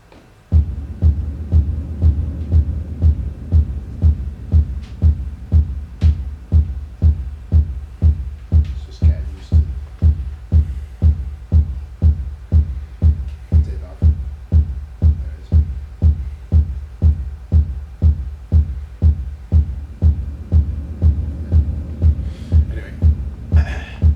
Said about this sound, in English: So it's got a reverb on the drums.